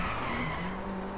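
Tires skid and squeal steadily as a car drifts through a hard-braking turn on the Tamil Nadu track in the Driveclub racing video game, a loud continuous screech over engine drone.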